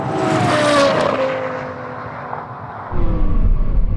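A Lexus LFA and a Porsche Carrera GT roar side by side in a drag race: a high, screaming engine note sweeps and fades, then a gear change drops it into a heavier, rumbling pull, with no voices.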